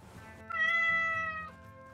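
A cat in the gas-station video game Pumping Simulator 2 gives a single clear, drawn-out meow, rising and then fading, heard alone against a quiet background.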